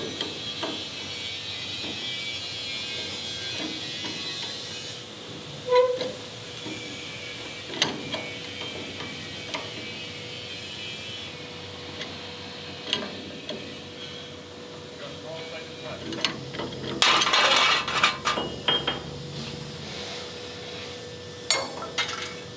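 A heated, red-hot locking nut being worked loose on a KV-1S heavy tank idler axle, with scattered metallic ratcheting clicks and clanks, a louder burst of clattering near the end, and people talking at moments.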